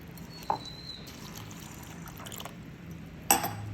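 Water poured over wheat grains as they are washed, a faint, steady trickle running throughout, with two short sharper splashes or clinks near the start and end.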